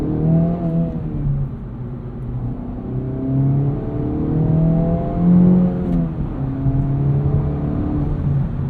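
A 2024 Acura Integra Type S engine revs up and down with automatic rev matching on a downshift to first gear, rising and falling tones over steady road noise, close and fairly loud with no talk.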